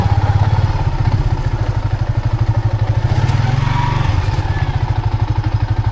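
A boat's motor near Masinloc, Philippines, chugs steadily and loudly throughout, a rapid mechanical putter that stays constant from start to finish.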